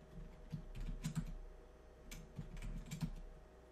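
Keystrokes on a computer keyboard while entering a password at a Cisco IOS telnet prompt, two short bursts of quick clicks separated by a pause, fairly faint and close.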